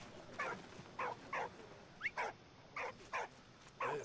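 Dog barking in the video game Valiant Hearts: The Great War, a series of short, moderately loud barks and yips repeating at irregular intervals over a quiet background.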